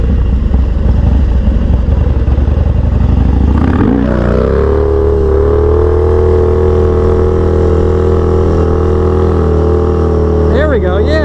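Harley-Davidson Dyna FXDX motorcycle engine held at steady high revs through a wheelie, loud and continuous, with a rough rev change early on settling into a sustained drone.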